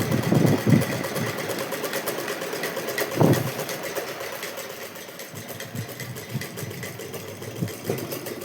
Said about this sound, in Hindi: फिर हमने इसे तिरछे सिल लेना है